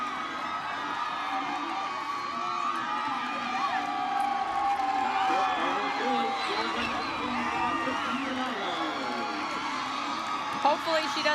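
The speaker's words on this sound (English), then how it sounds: "listen to the crowd as the Illinois faithful are here" Illinois fans roar and cheer after a Big Ten women's soccer championship win over Penn State, a dense, steady crowd din with whoops and shouts lasting throughout, loud and close.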